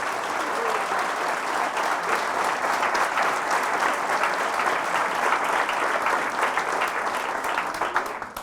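A church congregation at a Spanish-language Mass gives loud, sustained applause, many hands clapping in a thick, continuous roar that stays strong for several seconds before tapering slightly at the close.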